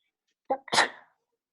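A single close, sharp human sneeze: a short intake followed by an explosive burst that fades quickly, in an otherwise quiet room.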